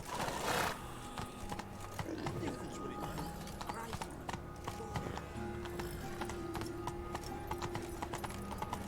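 Roach the horse from The Witcher 3 gallops with rapid, rhythmic hoofbeats, preceded by a short burst of noise, with game music and ambient sounds underneath and talking in the background.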